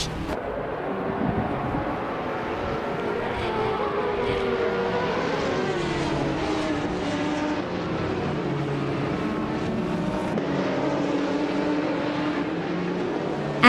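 A classic 1984 Ferrari 288 GTO leads a pack of race cars off the start at Suzuka in a racing game, engines roaring and revving in a steady, loud, rising drone.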